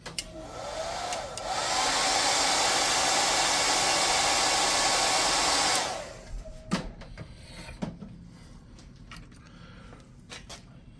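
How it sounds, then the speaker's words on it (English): Steady loud blast of an air gun blowing on a freshly painted Wizkids rabbit tabletop miniature for about four seconds, then cutting off and leaving a few faint clicks and handling knocks. "Then we're going to air gun it."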